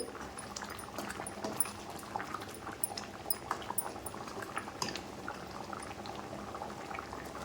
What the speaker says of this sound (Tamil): குழம்பு நல்லா கொதிச்சுட்டு இருக்குது